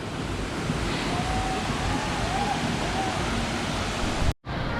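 Steady roar of Tegenungan Waterfall in Ubud, Bali, a dense continuous rush of falling water heard close and loud throughout, with faint voices beneath and a brief dropout near the end.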